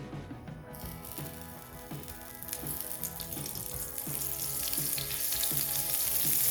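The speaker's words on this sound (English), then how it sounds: "we're just going to add some oil into a frying pan. Also going to add some butter" Oil and a bit of butter sizzling in a frying pan over low heat, a steady hiss that grows louder over several seconds, with faint rhythmic clinks and kitchen rattles underneath.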